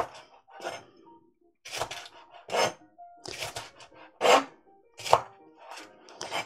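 A knife chopping food on a cutting board, with quick bursts of close, crisp cuts separated by short pauses.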